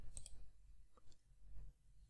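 Soft mouse clicks open Control Panel on a Windows 11 computer: a quick pair of faint clicks, then a couple more isolated clicks, all quiet and close with no talking.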